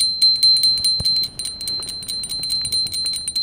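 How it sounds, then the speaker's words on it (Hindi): A hand bell rings steadily during a Hindu puja ritual, its bright metallic tone struck in a fast, repeated rhythm, close and clear with no talk over it. "ऊपर ऐसे घंटी रहेगी।"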